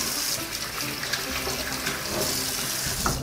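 Steady hiss of tap water splashing into a sink as a cloth is rinsed while cleaning a two-month-old Kefalotyri cheese rind, continuous and close.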